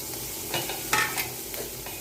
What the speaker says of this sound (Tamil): சேர்த்து வதக்கிடலாம் நல்லா வதங்கி வரட்டும்